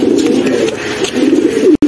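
Five female pigeons kept in a cage for sale coo together in a steady, dense low warble, close and loud, breaking off briefly near the end.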